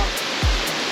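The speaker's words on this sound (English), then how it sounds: "Waterfall! Wow, there's so many of them here too." Upper Creek Falls in Linville, North Carolina pours steadily as a dense, close, continuous rush of falling water with no other sounds.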